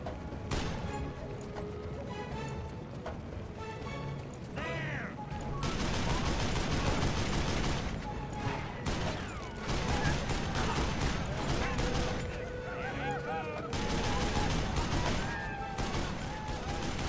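A Gatling gun fired from a wagon in Call of Juarez: Bound in Blood, with long bursts of rapid machine-gun fire broken by short pauses, loud and close, set amid game music, effects and some voices.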